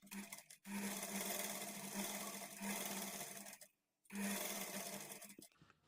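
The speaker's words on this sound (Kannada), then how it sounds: "ಒಂದು 1/2 ಇಂಚು ಇಲ್ಲ 1/4 ಇಂಚ್ ಮಾರ್ಜಿನ್ ಇಟ್ಕೊಂಡು ಸ್ಟಿಚ್ ಮಾಡ್ಕೊಳ್ಳಿ." Sewing machine stitching piping on a blouse neck, a close, loud steady whirring run that stops briefly twice and then starts again, with no voice over it.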